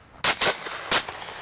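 Three sharp shotgun blasts ring out on a driven shooting day, two in quick succession and a third after a short pause, loud and close with a brief outdoor tail after each.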